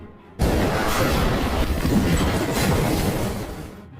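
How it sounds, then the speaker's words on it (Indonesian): A bomb-rigged gas pipe blows up in a film scene, a sudden loud blast that gives way to a sustained roaring rumble for several seconds before slowly fading. "Dia meledakkan pipa gas yang sebelumnya sudah dipasangi bom."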